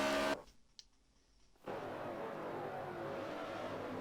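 Radio-controlled race cars in an XRS Cup Series race at Miami RC: a loud burst of motor whine, a near-silent gap, then a steady, continuous buzz of cars circling the track.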